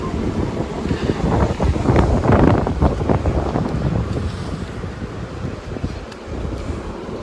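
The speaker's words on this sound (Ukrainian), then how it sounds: "Вітер сьогодні." Strong gusty wind buffets the microphone, rumbling loudly, easing and then picking up again in uneven waves.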